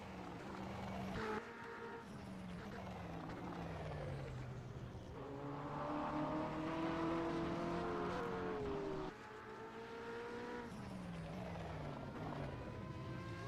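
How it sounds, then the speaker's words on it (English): Racing engines howl in a Le Mans endurance racing video game, a Porsche among them, with rising and falling pitch as cars scream past and shift through gears, loud and continuous under faint commentary. "that Porsche just screams towards you"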